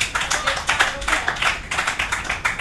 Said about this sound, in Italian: applauso a Romeo